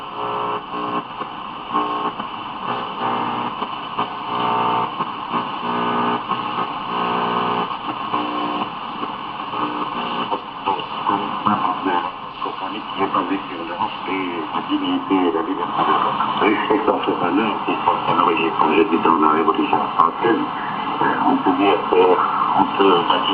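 A Zenith Transoceanic shortwave radio tuned to the 19 meter band gives a steady, band-limited hiss and crackle, with a faint distant voice broadcast drifting in and out and strengthening toward the end.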